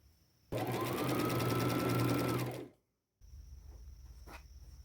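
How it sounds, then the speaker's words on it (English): A sewing machine stitches a 1/4 inch seam down the side of a velvet and lace jacket, running loud and steady for about two seconds before winding down to silence, then a faint hum resumes. "I'll take it to my machine and do a 1/4 inch seam allowance right down the side"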